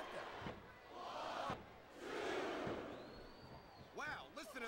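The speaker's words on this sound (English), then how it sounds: "Wow, listen to that chant" Crowd chanting in the wrestling video game SmackDown vs Raw 2007 during a women's match, a broad, rumbling arena roar that swells and falls with a few slam-like thuds and short sharp bursts near the end, quiet and in the background.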